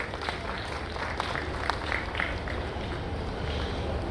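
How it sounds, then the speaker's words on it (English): A crowd claps for an official at a Nigerian newspaper awards ceremony, producing a steady, fairly loud wash of applause with scattered sharper claps throughout. "Can I have a round of applause for her,"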